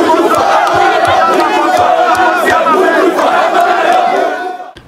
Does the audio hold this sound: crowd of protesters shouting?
yes